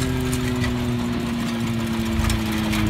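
A branch shredding machine runs steadily near Lapseki, Çanakkale, its engine giving a loud, constant hum and vibration throughout, with no speech.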